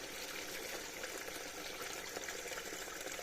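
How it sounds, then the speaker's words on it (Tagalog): Creek water flowing and trickling out during water collection, a faint, steady, bubbling wash of water at a distance with no talking. "Lumalabas na din ang tubig eh."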